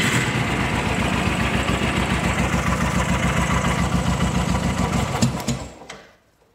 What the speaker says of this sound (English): run the engine again for another 5 to 10 seconds